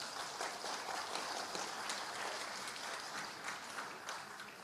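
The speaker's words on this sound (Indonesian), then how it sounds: "Nggak usah tepuk tangan" Audience applause at an Indonesian political talk on economic growth, a steady dense wash of clapping at moderate level throughout, with no voices standing out.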